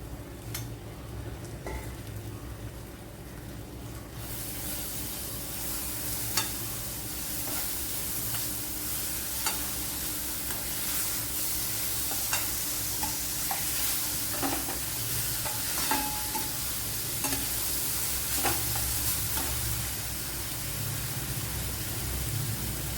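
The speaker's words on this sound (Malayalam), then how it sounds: "ശർക്കരയിലേക്ക് ഒരു കൂടി തേങ്ങ ഇട്ട് കൊടുക്കാം" Grated coconut stirred into melted jaggery in a pan, a continuous close bubbling sizzle with a broad hiss and scattered scraping ticks of a spoon, steady and moderately quiet, no voices.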